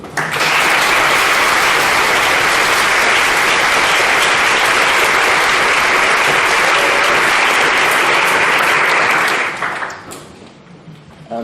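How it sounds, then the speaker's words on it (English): Conference audience at an effective altruism panel in Berlin gives a loud, sustained round of applause for the panelists, dense even clapping that fades out near the end. "please give a round of applause for all of them"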